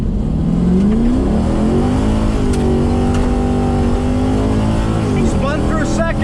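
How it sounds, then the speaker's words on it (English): A cammed 450-plus horsepower Chevrolet Caprice PPV accelerates hard on a drag run, its loud engine rising through the gears with a rough, lopey roar and a brief dip between shifts, heard close from inside. "Spun through second, got rubber in third."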